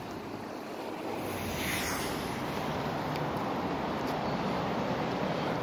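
Steady broadband rushing of creek water flowing by a bridge, continuous and fairly loud, with some wind buffeting the microphone.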